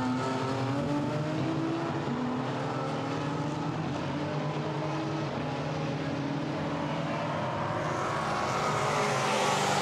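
BMW M3 and M4 GT4 race cars battle at Misano circuit, a sustained loud engine roar with shifting tones as the cars run close together, dense and steady throughout without any talking.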